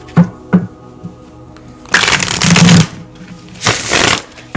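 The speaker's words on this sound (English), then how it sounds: "Let's pull some tarot cards for my singles." Tarot cards are shuffled by hand, a few quick snaps followed by two bursts of crisp riffling and fluttering, loud and close, with soft handling taps in between.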